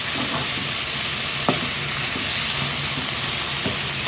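Pirandai (adamant creeper) and tamarind sautéing in a pan, a steady sizzle with soft stirring scrapes throughout, close and fairly loud, no talking.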